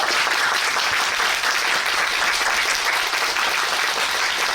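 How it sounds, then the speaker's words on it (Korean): A theater audience gives sustained, thick applause at the curtain call of the musical Gwangyeom Sonata, constant and close with no talking. "네, 오늘 말씀하신 유현수 배우님께 큰 박수 한 번만 부탁드리겠습니다."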